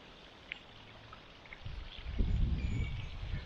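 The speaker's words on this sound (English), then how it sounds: "it's obviously, as you see, it's raining" Rain on the West Highland Way near a loch: a soft, steady patter that thickens into a louder wash of drops and rustling in the second half, outdoors with no voices.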